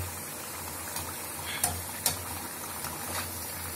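Thavala vadai frying in hot oil on a simmering flame, a steady dense crackle and sizzle with a few sharper pops and taps, close and moderately quiet, no voices.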